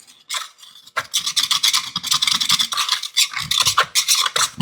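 Brisk scrubbing strokes clean gunk from a brake part on a barn-find Lincoln during a brake overhaul, rapid close rasping bursts in an uneven rhythm.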